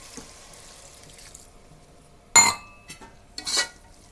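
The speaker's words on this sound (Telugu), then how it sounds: "ఒక గ్లాస్ నీళ్ళు పోసుకుందాం కదా." A brief gush of water poured into a pan, followed by a few small splashes and a second short pour, in an otherwise quiet kitchen.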